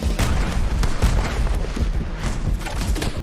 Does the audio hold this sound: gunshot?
yes